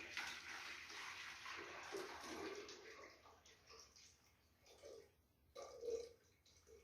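Water poured into a cylindrical container about 9 cm across and 20 cm tall during a fluid-equilibrium setup, a soft, irregular splashing and trickling that fades after a few seconds, then returns briefly in a couple of small bursts.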